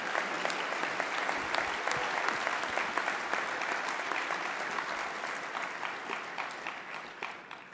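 An indoor audience at a spring convocation ceremony applauding staff and faculty, with dense, sustained clapping that fills the hall and slowly tapers off toward the end.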